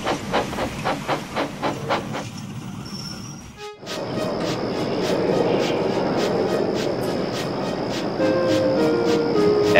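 A steam train sound effect: rhythmic chuffing puffs give way to a loud blast of hissing steam, followed by continuous rolling rail noise with faint squeals, and no voices.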